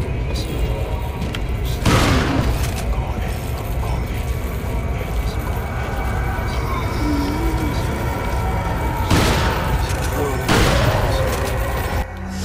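Gunshots from the Resident Evil 4 video game ring out as a few separate loud bangs spread across a low, steady game background, with a voice talking between them.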